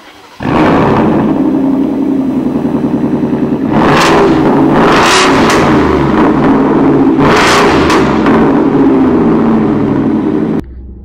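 A Ford F-150 Shelby Super Snake pickup truck accelerates hard, its engine roaring loudly and close for about ten seconds, with several rising revs as it climbs through the gears before the sound cuts off.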